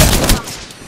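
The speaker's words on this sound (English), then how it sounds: "I'm taking fire." Gunfire in the Apex Legends video game, one loud, dense burst of shots that trails off quickly.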